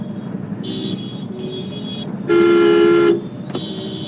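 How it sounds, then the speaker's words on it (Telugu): Heavy city traffic in Guntur on a hot day, with steady engine rumble and several car horn toots, including one long loud blast in the middle, close by. "విపరీతంగా హెవీ ట్రాఫిక్ గుంటూరులో ట్రాఫిక్ చూడండి ఎంత అసలు ఎలా ఉందో అడుగడుగున ట్రాఫికే"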